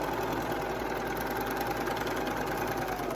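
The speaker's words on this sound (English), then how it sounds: "I'll sew a seam just the way I normally would" A sewing machine stitching a practice seam on fabric scraps, a steady close mechanical hum with an even rapid stitching rhythm running throughout.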